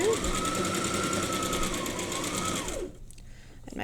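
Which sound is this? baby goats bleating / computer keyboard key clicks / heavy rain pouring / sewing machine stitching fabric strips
sewing machine stitching fabric strips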